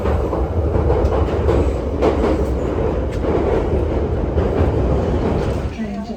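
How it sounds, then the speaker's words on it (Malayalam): Inside a moving London Underground tube train, a loud, steady rumble of wheels on track runs throughout, with rhythmic clicks and rattles of the carriage. "നമ്മളിപ്പോൾ ഉള്ളത് ട്യൂബിൻ്റെ അകത്ത്"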